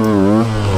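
A motorcycle engine revs briefly as the rider works the clutch and throttle to lift a wheelie, a loud, close, buzzing note that rises and dips within a second.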